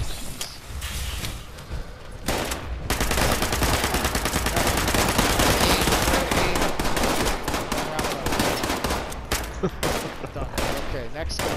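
Rifle fire crackles in a video game, bursts of rapid shots and mechanical clatter filling most of the stretch, loud and close, with short pauses between volleys.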